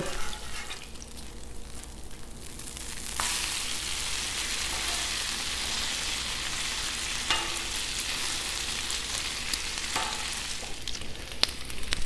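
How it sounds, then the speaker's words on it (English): Bacon fries on a Blackstone griddle with a steady, moderate sizzle that swells after an early scrape, as if flipped, followed by occasional spatula taps and clicks against the flat top. "Let's give this bacon a flip."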